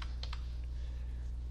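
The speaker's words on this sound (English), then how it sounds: "We're going to type in" Keys tapped on a computer keyboard while entering an add-on source URL to reset Kodi 17 on a TV box: a few quick, close clicks near the start, then a steady low hum with no talking.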